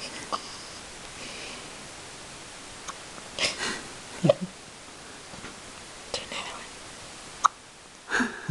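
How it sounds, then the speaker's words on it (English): Tiny hiccups from a small child come as a few brief, soft bursts scattered across quiet, whispery room noise, with faint breathing and rustling in between. "do you have the hiccups?"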